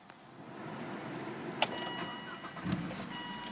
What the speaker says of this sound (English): And if we just get the car started up